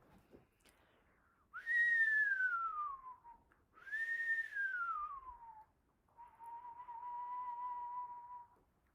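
A person whistles an imitation of an Eastern Screech Owl call, in a quiet, close setting: two descending whinnying whistles, each sliding downward in pitch, followed by a long steady level trill.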